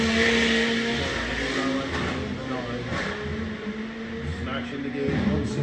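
A drag racing car on a solo run sends a loud mechanical engine roar down the strip, heard under a commentator's voice throughout.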